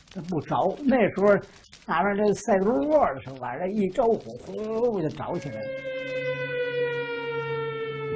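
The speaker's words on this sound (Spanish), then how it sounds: "el inquietante aullido de las sirenas que anunciaban incursiones aéreas" A voice speaks for several seconds, then a steady, sustained air raid siren tone rises in and holds, loud and continuous to the end.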